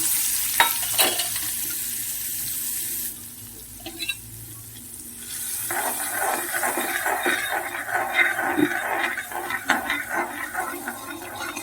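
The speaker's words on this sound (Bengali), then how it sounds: "এবার আমি গরম কড়াইয়ের মধ্যে বাটারের কিউব দুটো দিয়ে দেবো" Two butter cubes fry in a hot wok, a continuous close sizzle with stirring scrapes that briefly drops and then swells louder as the butter melts.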